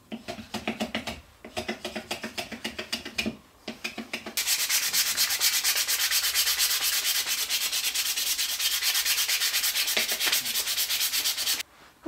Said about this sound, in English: I'm going to turn my attention to some sandpaper and clean this thing up